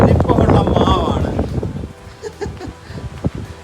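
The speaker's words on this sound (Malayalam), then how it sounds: "ഇവിടുത്തെ കാറ്റ് ഭയങ്കരമായ കാറ്റാണ്" Strong wind blows outdoors near a large mango tree and buffets the microphone in loud, rough gusts that settle into softer rustling, with people talking over it.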